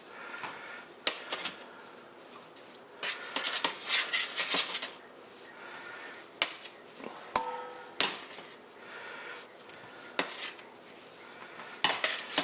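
Greasy meatballs scraped and lifted off a frying pan with a metal utensil, giving irregular clanks, scrapes and taps of metal on the pan, close and fairly loud, with no one speaking.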